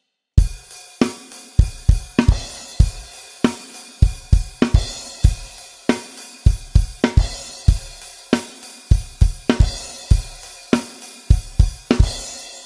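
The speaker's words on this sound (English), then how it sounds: "the snare drum plays the count 4 by itself, and then the crash cymbal is going to play the 4E" A drum kit plays a steady rock beat, with kick and snare hits repeating and crash cymbal accents splashing in at regular points.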